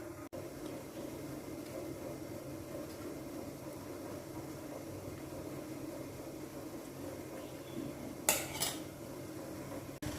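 Steady low kitchen hum with a brief clatter of metal sabudana idli plates being set to steam near the end, a couple of quick clanks close by.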